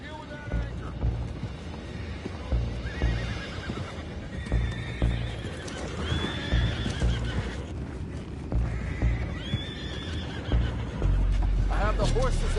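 Several horses neigh and whinny repeatedly amid clopping hooves and rumbling background noise in Red Dead Redemption 2, fairly close and busy throughout.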